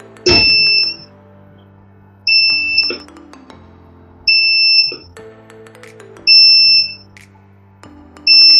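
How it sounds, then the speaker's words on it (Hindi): A Luminous Eco Volt 1550 inverter sounds five evenly spaced, loud electronic beeps about two seconds apart, each a sharp high tone over a low steady hum, with a click at the start. "ये बीप करता है 5 बार।"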